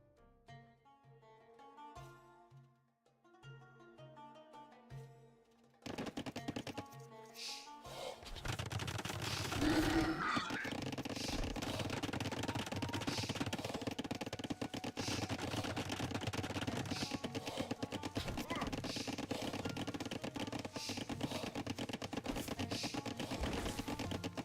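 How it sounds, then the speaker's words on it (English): Rapid speed chopping, a dense fast run of sharp knife taps that starts abruptly and continues steadily and loudly for a long stretch, after a quieter opening with tonal background sounds. "I love the sound of speed chopping"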